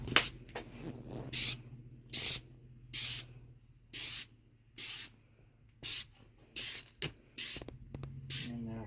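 Aerosol can spraying clear coat onto a car headlight in about ten short, evenly spaced hissing spritzes, close and crisp, each lasting about half a second, with no talking.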